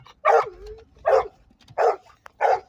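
Dogs bark outdoors in a snowy spot where snowmobiles are about: four loud, evenly spaced barks that ring out close by, with no talking.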